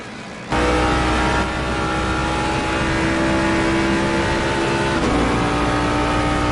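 A GT3 race car at Mount Panorama, Bathurst, in a racing video game drones loudly and continuously at high revs, its engine note holding steady with a slight shift partway through.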